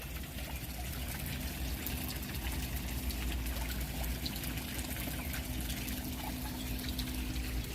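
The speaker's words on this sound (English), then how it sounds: "I think this waterfall's definitely seen better days." Water trickles and pours steadily through an algae-covered Japanese garden waterfall, a soft continuous wash with no voices.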